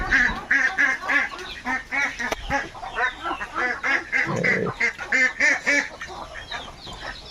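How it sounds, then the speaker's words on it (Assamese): A flock of domestic ducks or geese squabbles nearby, letting out repeated loud, rhythmic quacks and honks in overlapping bursts with hardly a pause. "সেইফালে হাঁহ কাজিয়া কৰি আছে"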